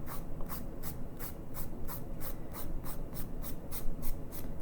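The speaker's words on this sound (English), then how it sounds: "you can go ahead and just file, and any of the residual paper will come right off." A light nail file rasps across a repaired fingernail to smooth off residual paper, producing steady, rhythmic short strokes close up at a low level, with no talking.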